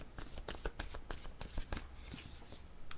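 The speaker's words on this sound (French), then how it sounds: "Attendez, je vais demander une carte maintenant sur la carte du bar." A deck of cards is shuffled by hand in quick riffling bursts, close and moderately loud, with no talking over it.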